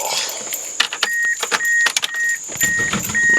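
A second-generation Mitsubishi Eclipse is given a start attempt, with close clicks, rattles and brief cranking bursts over a steady high whine, but the engine never clearly catches.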